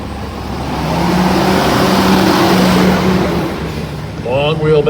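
A semi truck driving past on a highway makes a loud engine roar that swells and fades as it passes, with a low horn-like drone in the middle and a voice speaking at the end.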